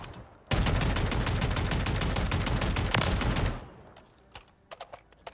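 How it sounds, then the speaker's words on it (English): Shotgun fire in Call of Duty, a rapid dense burst of loud blasts lasting about three seconds, then stopping abruptly, with a few scattered softer impacts afterward. "Let's test this out real quick. Not bad. It's a shotgun."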